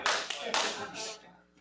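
Sharp hand claps at a city council regular meeting, several quick loud bursts in a row, close by in a room, fading into quieter room noise toward the end.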